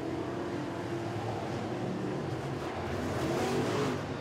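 A sportsman race car at Boyd's Speedway roars around the dirt oval, its engine note rising and falling steadily as it comes off turn four, heard at some distance under crowd ambience.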